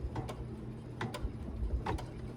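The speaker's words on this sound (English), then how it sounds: "let's put the foot down, and it's going to stitch across here." An embroidery machine stitching across fabric for a mouse pad gives off a quiet, steady mechanical whir with soft periodic ticking and clicking, close by and with no talking.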